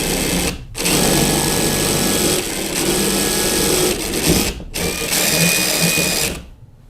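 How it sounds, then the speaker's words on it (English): A power drill with a 5/32 bit whirs steadily in long bursts through a hollow core door, briefly stopping twice before spinning up again, loud and close. "So I'm gonna be using this 5/32 drill bit to go drill right in the middle."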